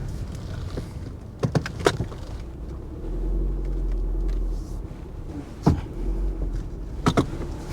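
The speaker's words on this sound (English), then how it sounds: "Looks like I just need to drive in reverse the whole way out of here." A car reversing along a rocky, muddy logging road in a logged forest, with a steady engine rumble broken by sharp knocks and bangs from rocks under the wheels and body rattles, close and uneven.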